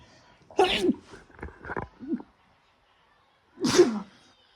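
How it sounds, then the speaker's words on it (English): Two sharp sneezes from a person in a home kitchen while cooking, the first near the start and the second a few seconds later, with brief vocal sounds between them. "Oh, I've sneezed a whole bunch today."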